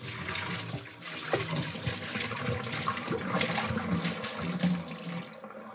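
Sanitizer solution sloshes and swirls inside a home-brewing fermenter as the vessel is rotated, a continuous close watery churning with splashes.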